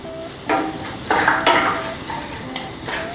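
Red onion sizzles and fries in a pan while a utensil scrapes and stirs it in bursts, the frying hiss steady underneath and the stirring strokes coming louder every second or so, close and clear.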